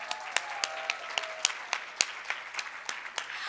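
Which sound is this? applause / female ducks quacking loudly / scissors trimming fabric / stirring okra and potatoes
applause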